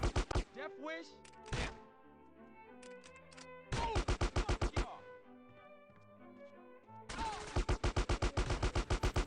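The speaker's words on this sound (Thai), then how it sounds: "นี่ผมใช้ปืนอาก้าเลยว่ามันค่อนข้างแรงนะฮะ" AK rifle fire in GTA San Andreas crackles in loud rapid bursts, separated by gaps of quieter game sound and music, with a final long sustained burst.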